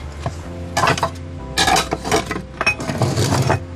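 A spoon scrapes and clinks against a bowl as dry ingredients are mixed into a wet mixture, in bursts of irregular stirring knocks and rattles, close and fairly loud.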